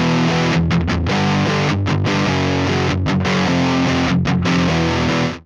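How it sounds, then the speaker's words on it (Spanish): Electric guitar runs through a Neural DSP Mesa Boogie Mark IIC+ amp plugin set for a fuzz-like distortion, playing loud saturated chords with brief choppy gaps, alone without talk. "aquí ya empieza a ser una distorsión un poco medio fuzz"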